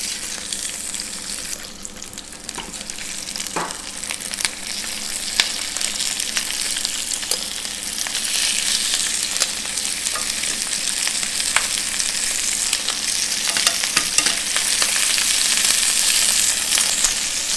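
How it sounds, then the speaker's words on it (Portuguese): Shell-on shrimp sear in a pan over high heat for paella, giving a dense, steady bright sizzle with scattered crackles and pops that grows slightly louder, with no voices. "no fogo bem forte eu vou tostar esses camarões para eles ficarem bem vermelhinhos e cozinharem rapidinho"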